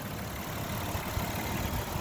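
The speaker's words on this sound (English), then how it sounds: "It idles smoothly." A 2008 Dodge Caravan SE wheelchair van's 3.3 V6 engine idles under the open hood, a steady low rumble with an even, unbroken drone and no voices.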